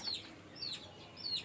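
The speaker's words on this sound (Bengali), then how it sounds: "এটা হচ্ছে আমার ছোট মোরগ।" A young desi rooster on a chicken farm gives three short, high, faint clucking calls, evenly spaced and close by.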